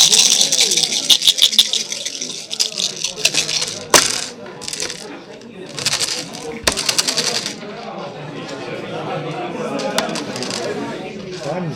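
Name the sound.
dice rolling and rattling during a tabletop game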